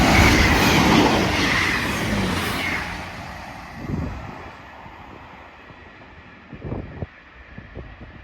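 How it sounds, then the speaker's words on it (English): An East Midlands Railway train passes through, a loud broadband roar and rush that is strongest at the start and fades away, followed by a few separate clunks and rail clacks near the end. "A train now passing through."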